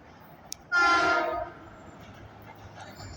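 A train clears rail crossovers while a stopped New Haven Line commuter train waits. Its horn gives one loud, close, brassy blast of about a second, then fades into a low outdoor rumble.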